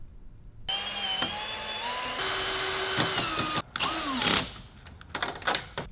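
A power drill bores mounting holes for a Maxton Design body kit on a Mk4 R32, its motor whining steadily and rising and falling in pitch, with short bursts and clicks as it stops and restarts.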